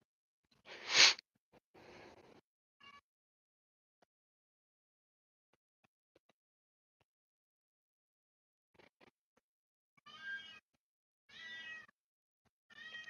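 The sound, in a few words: cat meowing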